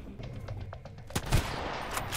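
Gunfire in the video game Sunkenland, played at night with night vision: a few quiet shots, then a sharper, louder burst near the middle that lands a headshot, over low background rumble.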